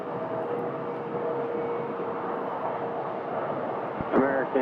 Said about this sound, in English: here we've got an American A321. It's the one that just landed a couple minutes ago